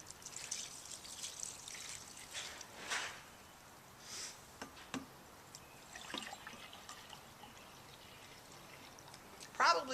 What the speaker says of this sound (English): I'm going to put 2 cups of the dye in each of my containers.